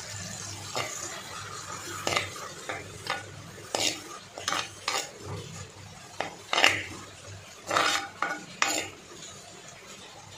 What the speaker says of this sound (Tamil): வெங்காயம் வதக்கட்டும்